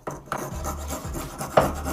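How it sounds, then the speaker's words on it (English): A hand saw blade cuts while making a DIY clay extruder, giving a few close rasping strokes in a quick back-and-forth rhythm with a sharp tap near the end. "Saw upright and let the blade guide you through."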